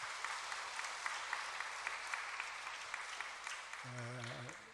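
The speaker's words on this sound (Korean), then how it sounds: "우리 찬양대 생각하시면서 힘차게 박수 한번 더 쳐드리겠습니다" A church congregation applauds the choir after a worship song, steady broad clapping throughout, with a voice briefly speaking near the end.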